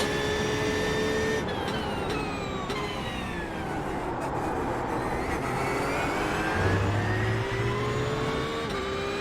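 Porsche 992 GT3R race car engine in the iRacing game at Zolder, a loud constant engine note climbing and falling through gear changes, heard on its own with no voices.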